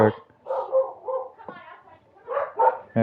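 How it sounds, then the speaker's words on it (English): Several dogs barking in bursts nearby, harmonic yaps and howls recurring across the stretch with a person talking over them. "That's my dogs right there."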